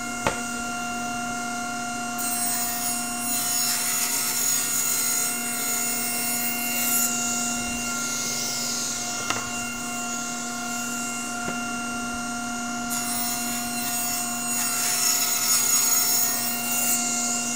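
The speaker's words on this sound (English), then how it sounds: "Whenever you're cutting plywood, be sure that when you're pushing your plywood, you push it all the way through the saw before you let go." A saw cuts red oak veneer plywood as a continuous whining drone with a steady tone, running throughout at moderate level with no talk.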